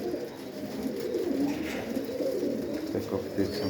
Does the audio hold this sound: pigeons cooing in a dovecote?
yes